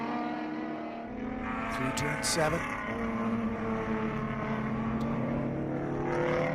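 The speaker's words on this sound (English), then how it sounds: "You can hear the wail of that V6 Mustang using the torque up the hill." A V6 Ford Mustang race car at the SCCA National Championship Runoffs wails uphill through a turn, its engine note rising and holding steady under an announcer's commentary.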